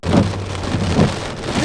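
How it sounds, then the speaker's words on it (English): Heavy rain pounding a moving car during a tornado-warned storm on a Texas-to-Tennessee road trip, a dense continuous roar with low rumbling swells and no voices. "If you ever caught in a storm like this, because it's raining hard"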